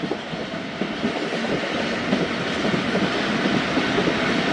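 The Khyber Mail train rolls past the Samma A signal cabin near the main station, a loud, continuous rumble and rattle of wheels and carriages filling the whole stretch without a break.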